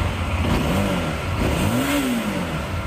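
A Dafra NH 190 motorcycle engine runs close by, revving up and down in a few rising and falling swells over a clattering idle.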